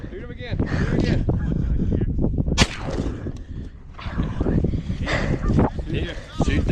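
A shotgun fires at geese on a goose hunt, with one sharp, loud blast breaking through nearby voices that talk and shout excitedly all around it.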